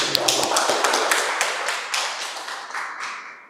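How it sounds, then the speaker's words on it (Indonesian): Students in a class applaud a third-ranked classmate with a dense run of hand claps, near and lively, holding fairly steady for a few seconds before easing off at the close. "Tepuk tangan."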